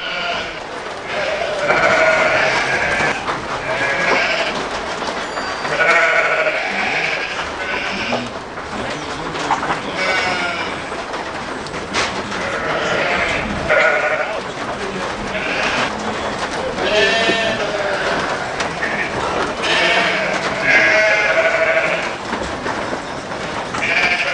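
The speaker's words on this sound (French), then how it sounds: "Le mouton est bien plus qu'un simple acteur des Highlands." Sheep roaming free in the Scottish Highlands bleat repeatedly, several animals calling one after another, loud and close over a steady outdoor background, with a voice speaking at times.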